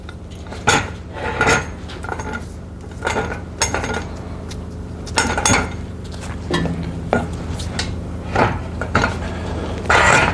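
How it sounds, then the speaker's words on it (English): A jack is set under the transmission oil pan of a Sprinter van, giving loud metallic clanks and knocks in irregular bursts, with scraping and rattling between them, close by in a workshop. "I'm gonna put a jack over here on the bottom of the transmission oil pan."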